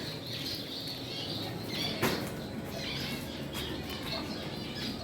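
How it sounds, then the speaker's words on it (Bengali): Zebra finches and Bengalese finches kept at a breeding farm give soft, scattered squawks and chirps over a steady rustling background, with light wing flutters and one brief sharper burst near the middle. "এখানে কিছু জেবরা ফিঞ্চ পাখি বসিয়েছি এদিকের কাউন্টারে সব জেবরা ফিঞ্চ পাখি বসিয়েছি"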